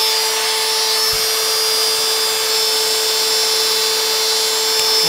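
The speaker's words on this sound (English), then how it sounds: "Just put a little bit more of a chamfer on it than it has." Loud, steady high-pitched whine of a power tool cutting a chamfer into a wooden desk sign, with a continuous tonal hum running unbroken throughout and no talk.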